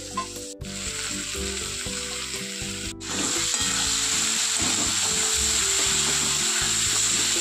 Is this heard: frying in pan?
yes